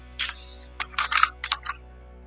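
Keystrokes on a computer keyboard spelling out a short word in a Windows search box, several quick bursts of close clicks with brief pauses between them.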